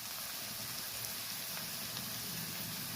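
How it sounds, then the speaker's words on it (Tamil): Ground kilanga fish paste sizzling in a hot pan: a dense, even hiss of frying, close and steady throughout without any voice. "அரைச்சி வச்சுருக்க கிழங்கா மீன் கலவையை சேர்த்துக்கிறோம்."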